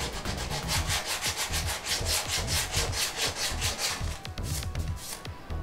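A sanding block with sandpaper rubs over body filler on a dented car panel in quick rhythmic back-and-forth strokes, loud and close with no voices.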